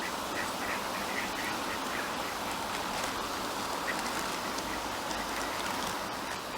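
Ducks at Dawlish quack repeatedly nearby, scattered calls over a steady background of running water and outdoor hiss.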